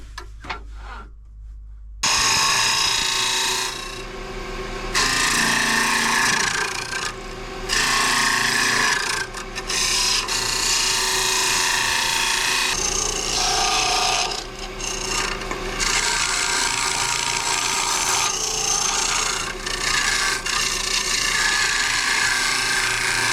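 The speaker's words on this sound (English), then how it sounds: "I'm just going to run a square carbide down this side wall just to make it a bit wider." A square carbide tool scrapes along the side wall of a spalted wood vase spinning on a lathe, loud rasping cuts in several bursts with short pauses between passes, close and without speech.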